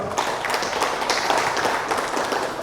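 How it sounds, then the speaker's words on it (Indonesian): Brief, light applause from a small audience at an Indonesian poetry and literature discussion, a scattered patter of clapping hands heard on its own. "Tepuk tangan buat Pak Bendolo."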